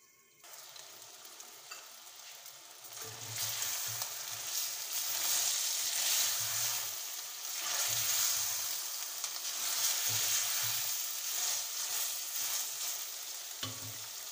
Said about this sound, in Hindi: चिकन को इसमें उस वक्त तक पकाऊंगी जब तक इसका कलर चेंज होता